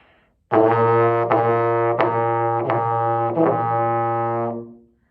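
A trombone sustains one low pitch while the player tongues it into four distinct notes, each marked by a soft attack, played close and alone before fading.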